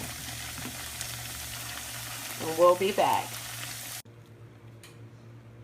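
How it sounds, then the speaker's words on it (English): Steady frying sizzle of empanadas in hot oil runs throughout, with a brief voice speaking over it before the sizzle cuts off abruptly near the end. "We're just frying the shell now."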